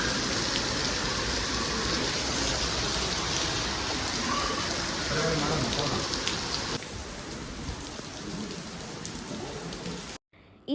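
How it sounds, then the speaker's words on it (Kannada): Heavy rain falls steadily in Chikkamagaluru, a loud continuous hiss of drops on surfaces that softens slightly partway through before cutting off abruptly near the end. "ಮಳೆನ ಸ್ಟಾರ್ಟ್ ಆಗೋಯ್ತು"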